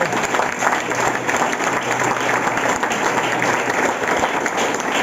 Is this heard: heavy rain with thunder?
no